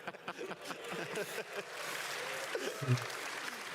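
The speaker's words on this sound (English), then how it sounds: "I didn't expect applause for light radius." Applause from an audience at ExileCon 2023, a spread-out clatter of clapping that fills the clip, with a voice speaking briefly at the start.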